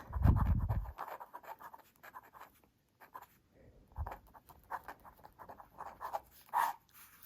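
Dry, scratchy pen strokes dragging across paper in short irregular bursts, fairly faint, with a low thump near the start.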